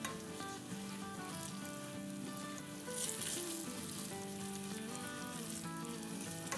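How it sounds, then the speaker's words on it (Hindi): Onions sizzle steadily in hot oil and ghee in a pan, a continuous soft crackling hiss with a brief stir partway through, no talking. "इसको हम थोड़ा सा फ्राई करते हैं।"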